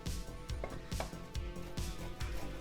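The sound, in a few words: grating mozzarella cheese on a coarse grater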